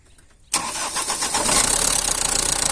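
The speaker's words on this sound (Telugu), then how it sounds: "బండి అయితే స్టార్ట్ చేద్దాం" A 2013 Tata Sumo Gold engine cranks and catches abruptly out of near silence, then settles into a loud, steady, slightly rough idle heard up close.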